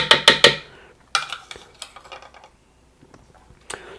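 A spoon clinks rapidly against a bowl while cornstarch is mixed into teriyaki sauce, three bright taps up front followed by a looser run of softer scrapes and knocks, then a final clink.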